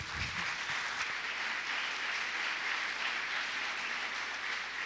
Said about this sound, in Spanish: Un aplauso a nuestro párroco, por favor.